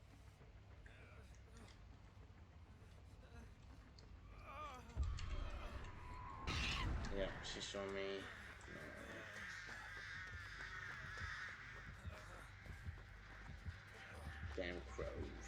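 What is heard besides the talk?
crows cawing in the video game Dead by Daylight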